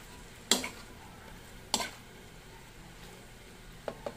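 Spatula scrapes and stirs through sautéed bitter gourd (ampalaya) with egg in a pan, giving two sharp scraping strokes about a second apart and a softer one later over a faint background.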